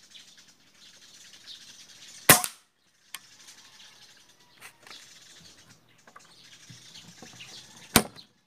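Sharp pellet shots from a converted Taurus PCP air rifle firing diabolo pellets: two crisp, loud cracks about six seconds apart, the first with a brief rattling tail, a fainter tick between them, over quiet outdoor ambience with faint birdsong.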